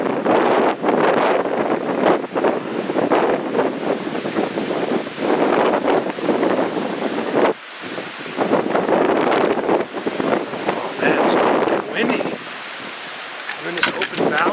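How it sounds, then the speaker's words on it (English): Gusty wind of about 50 mph on a hilltop buffets the microphone in loud, continuous roaring bursts, with brief lulls; a voice is partly heard beneath the noise. "it's really windy right now"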